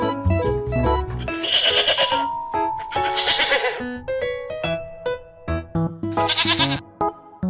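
A farm goat gives a series of loud, wavering bleats in three main bursts, heard close and alone with short pauses between calls.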